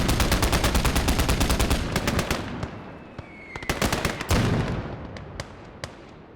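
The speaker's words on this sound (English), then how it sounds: "Love the sound of that AT rifle as well." Rapid machine-gun fire and a heavy anti-tank rifle in a World War II battle game with Soviet troops holding a German mechanized offensive; a dense burst of shots gives way to scattered, sharp cracks and booms at varied distances.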